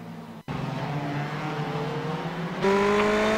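Race car engine and tires in the iRacing video game at Mid-Ohio: a loud, close engine drone cuts out briefly, then returns and builds, jumping to a harsher, higher tone near the end.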